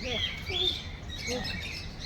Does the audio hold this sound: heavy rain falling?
no